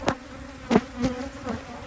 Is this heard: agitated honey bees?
yes